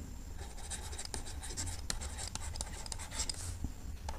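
Pen or marker writing during a trigonometry class, a soft continuous scratching with quick strokes and taps over faint room hum, no talk.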